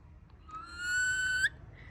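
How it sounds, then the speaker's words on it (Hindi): A pet parrot in a village home gives one clear, sustained whistle about a second long that ends with a sharp upward flick, heard alone over a low background hum. "एक और सीटी मारी"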